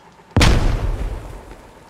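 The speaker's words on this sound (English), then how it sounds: "Is that them popping? Grenade." A single close grenade explosion in the military shooter Squad, with a sharp, loud blast followed by a deep rumbling tail that fades over about a second and a half.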